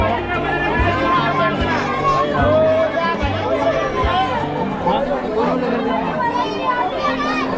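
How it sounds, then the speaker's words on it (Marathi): Dense crowd chatter fills the air at the Jejuri temple fort, with many overlapping adult and children's voices close by and a few low thumps beneath. "मित्रांनो जेजुरीमध्ये ना डेली गर्दी असते"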